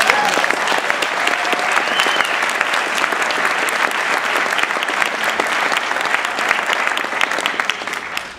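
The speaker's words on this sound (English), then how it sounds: "let's have a round of applause for them" An audience at a school award event applauds a group of students, a steady dense wash of clapping that holds at full strength from start to finish and only begins to thin in the last moment.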